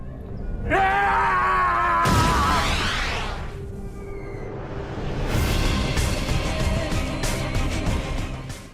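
In the anime Rurouni Kenshin, an explosion at the Akabeko beef restaurant erupts as a loud boom and rolls out into a long, roaring rumble, with shrill tones and layered dramatic effects swelling around it.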